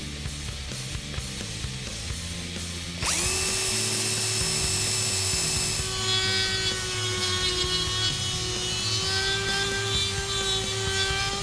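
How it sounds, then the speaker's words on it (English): A power drill starts abruptly and whines steadily at high pitch, loud and close, boring holes into a 2015-2017 Mustang GT part after a few seconds of quieter workshop noise. "we're actually going to drill 2 holes in here and then use the Dremel to open it up"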